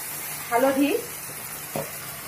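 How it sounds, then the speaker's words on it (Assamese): Ginger paste fries in hot oil for butter chicken, making a faint, steady sizzle that runs throughout, with a brief voice speaking over it. "মই তেল গৰম কৰি আদা বটা অলপ দিলো দি পেলাই এয়া ভাজি আছো"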